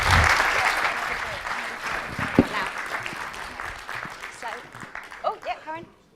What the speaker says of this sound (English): Can I have a huge round of applause, please, for Monaco Media?